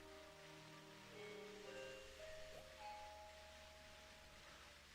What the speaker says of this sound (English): That's my doorbell.